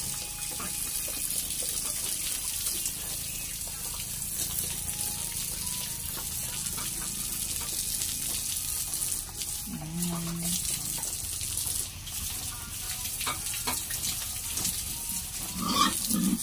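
Piglets about three months old eat and splash in water, with steady gushing and running water throughout, wet slurping and rooting noises, and occasional short grunts and squeals near the end.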